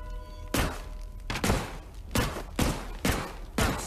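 Gunshots at a shooting gallery in the Peaky Blinders video game, about seven sharp reports fired at a steady, unhurried pace, loud and close, with no talk over them.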